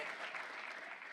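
A worship congregation keeps up a brief burst of thick, even clapping, steady and close throughout.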